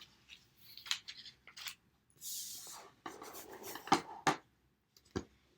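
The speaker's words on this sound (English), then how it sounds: "take some of the leftover paper and cut it into a long," Scissors snip through leftover card paper to cut a long, skinny rectangle, several close, quiet cuts and rustles of the sheet coming in short irregular bursts.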